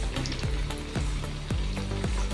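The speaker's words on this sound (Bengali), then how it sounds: "এবার অন্য সাইডটাও আমি মিডিয়াম আঁচে একটু সময় নিয়ে বেশ ভালো করে ভেজে নেব।" Egg and cabbage chops frying in oil over medium heat, a steady close sizzle with regular soft tapping or bubbling pops about every half second.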